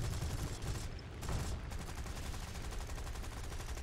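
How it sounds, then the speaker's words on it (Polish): Rapid gunfire aimed at a Spitfire Mk II fighter in War Thunder, a steady loud clatter of shots running throughout over engine roar, with no talk. "a tu do mnie strzelają"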